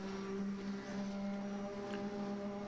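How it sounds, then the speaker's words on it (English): Twin-turbo V6 Nismo race car engine in a racing video game, a steady loud drone with strong sustained tones, heard from on board without pause. "Riding on board with Douglas Bacon, that V6 Nismo twin-turbo engine, absolutely thundering."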